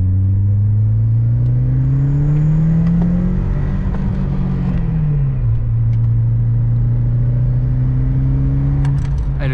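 Ford Escort RS Cosworth accelerating at full throttle in second gear, a loud close engine drone whose pitch climbs steadily, drops briefly as the revs dip, then rises again.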